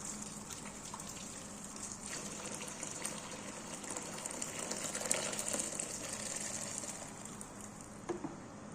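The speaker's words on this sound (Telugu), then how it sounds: "వేడి నీళ్ళు వేసుకుంటున్నాను మళ్ళీ." Hot water pours and splashes steadily over goat tripe being cleaned, making a fairly quiet, continuous gushing wash with small irregular splashes.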